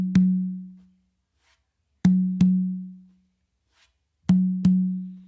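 Hand strokes on congas, including open tones on the tumba, ring out as deep resonant booms in sparse groups: a single hit, then two closely spaced pairs, each tone sustaining and fading in silence.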